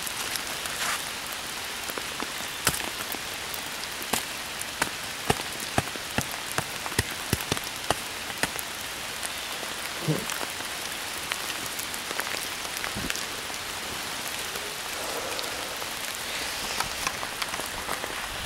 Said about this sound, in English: And it is like physically raining out here right now.